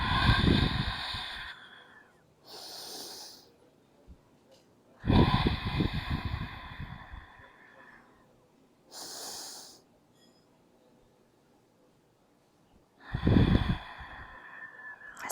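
During a seated chair yoga stretch, a person breathes slowly and audibly. Three deep inhales and exhales come close to the mic, each followed by a quiet pause.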